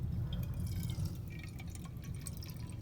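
Water, 100 milliliters, is poured into a metal can for a calorimetry lab, making quiet trickling and dripping splashes over a low background hum, fairly faint and close.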